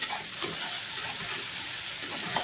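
Grated onion fries and is stirred in a pan for a chicken curry with cumin, a steady close sizzle broken by occasional scraping stir strokes, with no voices.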